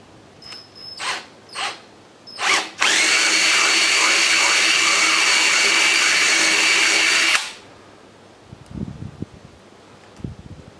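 A power drill enlarges a hole for a VermiBag Mammoth stand support rod, with a few short bursts before one steady, loud high-pitched whine lasting about five seconds, then handling noises afterward.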